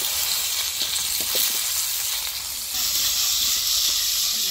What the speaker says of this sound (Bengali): এখন আলুর পিস দিয়ে দিব।